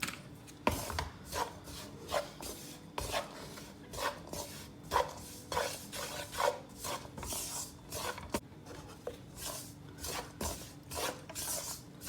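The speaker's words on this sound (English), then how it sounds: "you have to really roast it really well on slow to medium flame and keep stirring it" A spoon scrapes and stirs gram flour (besan) roasting in a pan over slow to medium flame for ladoo, in repeated short rasping strokes at a steady, uneven rhythm, close and moderately quiet.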